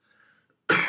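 A single loud, close cough bursts in abruptly after a near-silent stretch with faint background hum, dense and harsh, lasting to the end.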